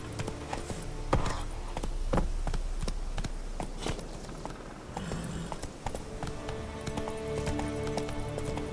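A horse gallops in The Witcher 3 video game, its hooves drumming in quick rhythmic clip-clops over the terrain, with occasional heavier thumps amid game ambience and background music.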